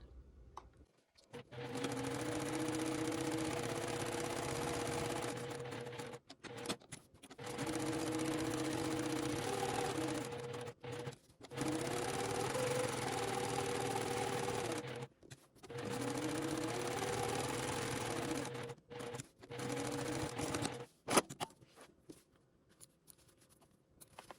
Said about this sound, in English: we're going to take it to our sewing machine and sew a top stitch 1/8 inch all the way around your entire needle book